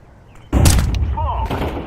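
A Counter-Strike 2 flashbang grenade detonates halfway through with a sudden loud bang, followed by a sustained ringing, muffled wash of game noise, close and harsh.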